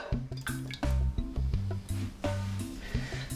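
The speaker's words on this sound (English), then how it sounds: "Now, take slow cooker and add the tomato sauce inside." Tomato sauce pours from a jar into a slow cooker in a home kitchen, giving thick, irregular glugging plops and squelches close up.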